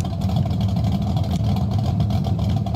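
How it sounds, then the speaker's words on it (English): The old engine of a 1975 Ford Bronco in SnowRunner runs at a steady idle, a low, continuous rumble, close and even, with no voices over it. "We got an old engine in there still ticking."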